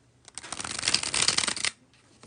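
A deck of playing cards is riffled in a bridge shuffle, a dense rapid flutter of card edges lasting just over a second before a soft settling tap, close and alone.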